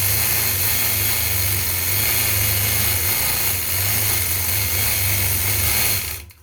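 A quilting sewing machine stitches a line across a quilt with a steady, fast mechanical whir and hum that holds loud and even, then cuts off abruptly at the end.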